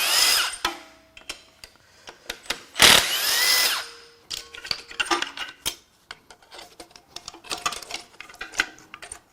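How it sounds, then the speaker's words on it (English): Power tool loosening exhaust manifold bolts on a BMW N63 twin-turbo V8, in bursts of whirring and clicking with metallic clinks of parts and sockets, one loud sustained run in the middle, close and without talk. "I'm going to unbolt the exhaust manifolds."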